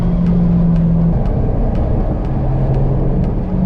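A steady, loud car engine drones from inside the vehicle, with a constant low rumble and road noise and no talking.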